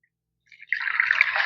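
Lukewarm water poured into a small bowl for bread dough, a steady trickling splash that starts softly, then grows into a continuous close pour lasting about a second.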